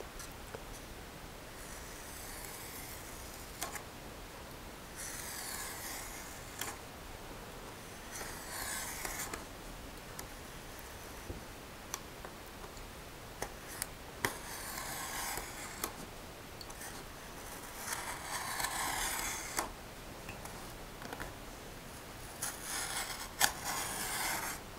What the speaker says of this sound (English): I'm going to take my hobby knife and I'm going to just draw it across the tube.